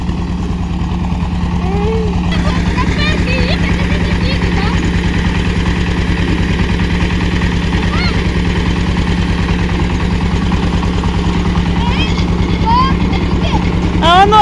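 A small tractor engine runs steadily during a zucchini harvest, with a low, throbbing chug throughout, loud and close, with faint chirps in the background.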